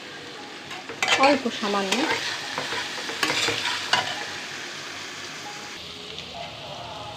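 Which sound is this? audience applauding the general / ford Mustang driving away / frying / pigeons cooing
frying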